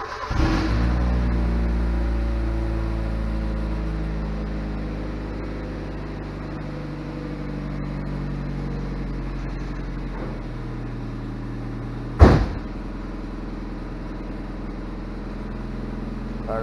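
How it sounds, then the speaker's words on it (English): A 1995 Mazda Miata M Edition engine cold-starts, cranking and catching, then settles into a steady, rumbling idle; a sharp knock sounds partway through. "let's do the cold start"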